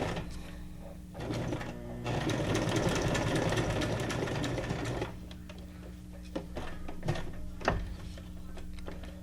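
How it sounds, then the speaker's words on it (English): A sewing machine runs a straight stitch across a junk journal bookmark, its whirring needle mechanism chattering steadily for a few seconds before slowing to scattered clicks and thumps, close and clear with no talk. "Let's sew around this. Let's have some fun. Do a straight stitch."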